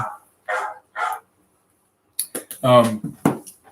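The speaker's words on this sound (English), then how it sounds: "Dogs are barking." Several short barks from a dog, a few spaced yips followed by a quick cluster of louder barks, mixed with nearby voices.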